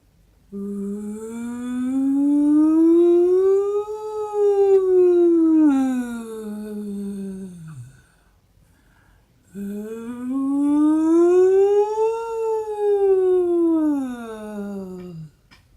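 A voice imitates a wailing ambulance siren, rising and falling in two long sustained swoops separated by a short pause.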